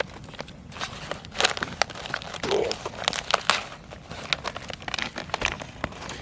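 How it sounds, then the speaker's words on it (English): A Mountain House chili mac with beef food pouch is ripped open at a forest campsite, with crisp crinkling and tearing bursts of plastic foil over several seconds, close by with no speech. "You get your Mountain House, which we're obviously going with the chili mac with beef. You start off by ripping it open."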